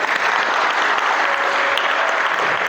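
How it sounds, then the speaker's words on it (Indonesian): Dense, steady applause from an audience at an evening public speaking training session at a boarding school in Banyuwangi, filling the whole stretch loudly with no break. "Tepuk tangan untuk kita semua pipa hari ini."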